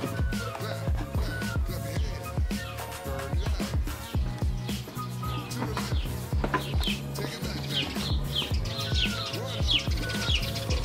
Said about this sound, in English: There's like a million birds out here